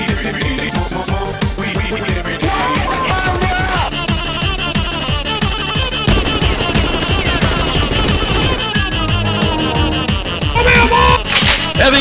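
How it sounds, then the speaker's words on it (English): A heavy machine gun turret in Fortnite Save the World fires in a long, dense, unbroken stream of rapid shots, loud and close, with clanking and impact noises layered throughout. "Heavy machine gun."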